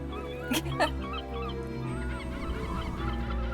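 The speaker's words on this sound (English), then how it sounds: "seagull!" Seagull calls in an animated pilot: two sharp, honking cries ring out early over a sustained musical bed, followed by softer wavering call-like tones.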